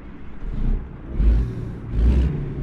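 A truck engine in American Truck Simulator turns over and rumbles to life, the deep low drone swelling in two surges as it starts and settles to idle, loud and close.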